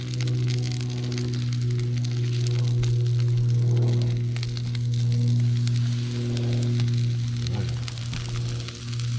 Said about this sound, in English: Nice little sizzle going on.